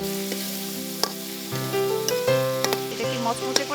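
Prawns sautéed with salt, dried chili and turmeric in a wok: an even sizzle broken by sharp scraping stir strokes, heard close under a backing of tuneful music.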